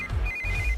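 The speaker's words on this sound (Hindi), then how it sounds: "इस वक्त दीदी का फोन।" A mobile phone ringtone in a dramatic film scene, a brief electronic ring tone sounding clearly over low background rumble, lasting under a second, no talking.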